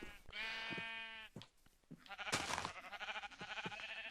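Sheep in the video game Minecraft bleat several times in quick succession, loud and close, the wavering cries overlapping one another with no talking.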